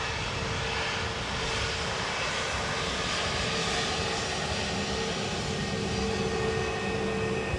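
Jet aircraft engines at Dublin Airport, a steady, loud, broadband roar with a constant whine that holds without pause and has no talk over it.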